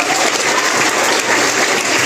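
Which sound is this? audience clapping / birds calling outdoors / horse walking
audience clapping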